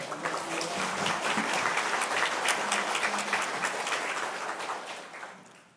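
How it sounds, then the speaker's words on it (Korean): An audience at a forum on digital piracy and copyright education claps to welcome a guest, a full steady round of applause that holds and then fades away toward the end. "박수 부탁드립니다"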